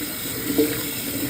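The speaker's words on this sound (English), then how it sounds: "start washing them. Get all of the dust" Fresh Kalamata olives being rinsed under a running tap, a steady close wash of flowing water with a brief slightly louder splash midway.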